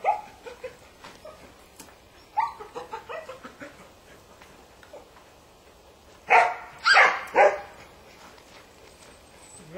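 Dogs and puppies barking, with scattered yips and whimpers early on, then a few loud, close barks in a cluster later, while a person gives commands in between.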